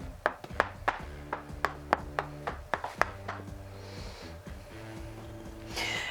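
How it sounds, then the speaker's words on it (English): A knife chops through soft gnocchi dough on a wooden board in a home kitchen, about a dozen close, crisp taps in an uneven rhythm over the first few seconds, then quieter rubbing and handling sounds. "So now we're going to cut them into gnocchi."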